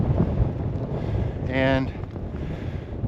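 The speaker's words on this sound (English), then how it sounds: "It's cold, it's windy, overcast, rain's coming later today" Cold wind buffets the microphone on the Laugavegur trail in Iceland, a rough, steady rumble under a voice, with a short tonal squeak partway through.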